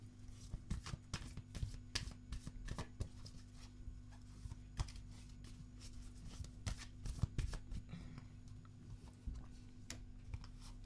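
Tarot or oracle cards are shuffled for a card reading, a quiet, close, continuous riffling with rapid flicks and taps over a low steady hum.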